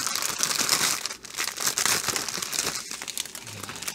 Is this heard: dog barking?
no